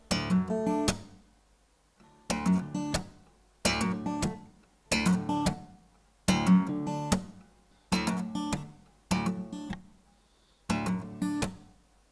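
Percussive fingerstyle acoustic guitar with thumb slaps, eight sharp struck-and-strummed hits at a steady rhythm, each decaying quickly into near silence, close and clear with no talking.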